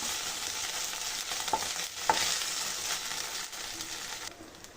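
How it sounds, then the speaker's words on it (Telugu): Ginger garlic paste frying in oil and being stirred in a pan, a steady close sizzle with a few scraping stirs that fades quieter at the end. "అల్లం వెల్లుల్లి పేస్ట్ని పచ్చి వాసన పోయి అంతవరకు కుక్ చేసుకోవాలండి"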